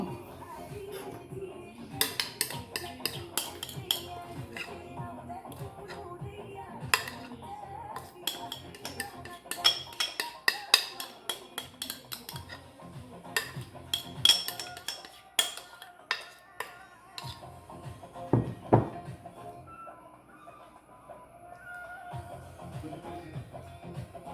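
A metal spoon clinks and scrapes against dishes while making a caramelized pineapple cake, with rapid bursts of bright clinks, pauses, and quiet speech in places.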